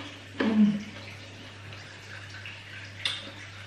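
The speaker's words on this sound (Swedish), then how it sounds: "Om ni hör att det rinner vatten så är det för att mitt kära badkar läcker." Water trickling from a leaking bathtub, a faint steady flow in the background of a home bathroom, with a low hum and a couple of brief louder knocks.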